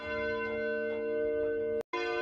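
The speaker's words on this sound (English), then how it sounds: "And then it's literally just footage of bells ringing." Church bells ringing with a sustained, rich metallic hum of overlapping tones and gentle repeated strikes, loud and steady, cut off by a brief silence before the ringing resumes.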